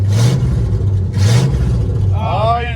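A car engine revs in short bursts, rising and falling twice, with loud low rumbling close by and a voice briefly heard near the end.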